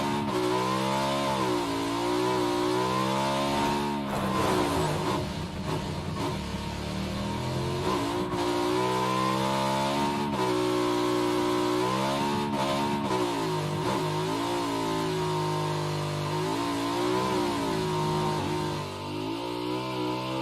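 Vehicle engine in the video game PUBG, a steady droning motor with rising and falling revs as it drives off, continuous and fairly close for about twenty seconds with no talk.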